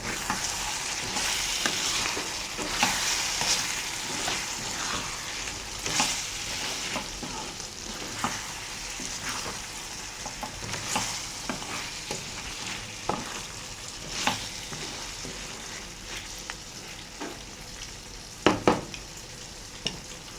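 Chicken masala frying in a pan, constant close sizzle with a spoon stirring and scraping through it, irregular knocks against the pan that grow sharper toward the end.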